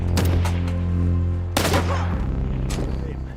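Gunfire rings out in a sniper action film shootout, with dense bursts of shots in two main volleys about a second and a half apart, loud and close, layered over a rumbling soundtrack.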